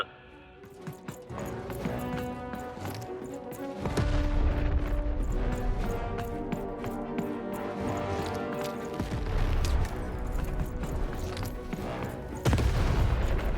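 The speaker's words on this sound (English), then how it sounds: "Shoot the button to fire the cannon." Cannon blasts from the video game Lost in Random, loud booming bursts with one heavy hit near the start and others around nine and twelve seconds, set over a dense, continuous game music and effects bed.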